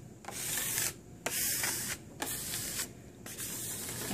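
A metal rib tool scrapes soft clay in a high school pottery class, giving rhythmic rasping strokes of steady hiss separated by brief pauses, close and fairly quiet.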